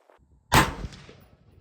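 A single sharp report from an AR15 rifle, a Rock River ATH in .223 Wylde, fired at a distance, with a short decaying tail and no voices.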